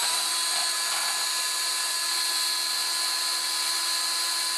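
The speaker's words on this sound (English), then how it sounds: "So, get that drill again, put that down." A power drill whines at high speed, boring holes through plastic and a metal can, a steady piercing tone held for several seconds with no voices.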